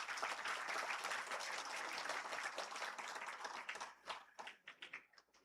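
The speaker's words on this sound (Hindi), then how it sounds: "एक बार जोरदार तालियों के साथ मुझे एक वातावरण दीजिए।" A lecture audience at the Atal memorial lecture series breaks into dense, hearty applause that thins out into a few scattered, separate claps at the end, all at low volume.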